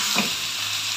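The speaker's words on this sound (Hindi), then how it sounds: "सब चीज़ों को शामिल कर लें, हल्का हल्का सा हल्के हाथ से चम्मच लगाते हैं मिक्स करने के लिए।" A spoon gently stirs coarsely crushed whole cumin and coriander in a hot cooking pot. A steady, close sizzle of frying spices runs throughout, with a faint scrape of the spoon.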